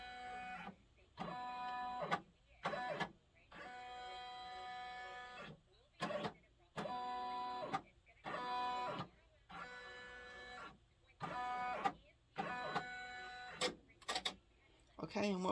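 A Brother embroidery machine traces the design outline for a hooded towel, giving off a series of short, quiet, whirring motor bursts separated by brief pauses.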